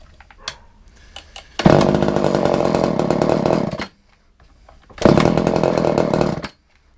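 An old chainsaw that has sat unused roars to life with the choke off, running loudly for about two seconds, cutting out, then bursting back into a second loud run before stopping.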